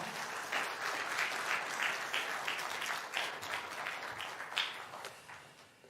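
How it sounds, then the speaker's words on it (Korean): A church audience at a seminar claps together in a sustained, even round of applause, a broad wash of many hands heard from within the room. "한 번 더 하나님께 영광의 박수 올려드리겠습니다"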